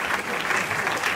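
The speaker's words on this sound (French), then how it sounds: "le pasteur Roger Lys, à qui nous demandons avec tout le respect de s'élever sous vos applaudissements" Applause from mourners at a funeral service and lying-in-state for a pastor, a brief burst of dense clapping heard close and fairly loud throughout.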